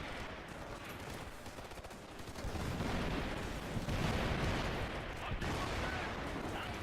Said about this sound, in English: that's the mortars hitting that enemy vehicle at the minute